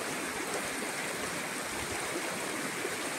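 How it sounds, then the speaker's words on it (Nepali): A river stream flows along both banks in rural Nepal, its continuous rushing water forming a dense, even wash of sound with no voices. "दुईपट्टि खोला बगिरहेको छ"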